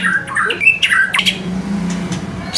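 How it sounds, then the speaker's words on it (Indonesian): Harsh, repeated squawks from a magpie-robin (murai batu) songbird, loud and close in quick bursts over about two seconds, with faint background murmur and no clear talk. "Burung gacor mas."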